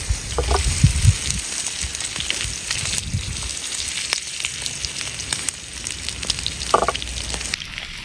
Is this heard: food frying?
yes